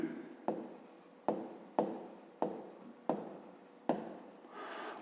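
Handwriting with a pen or pencil on paper during a fifth-grade maths lesson, heard as a close, quiet series of about eight scratchy strokes in steady bursts, with no talking.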